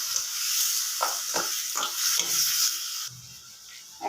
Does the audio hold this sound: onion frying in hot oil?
yes